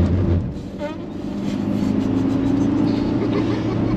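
A Ford Transit van cornering on the Nürburgring track, its engine and road noise a steady, loud droning rumble close to the cabin throughout, with no talk.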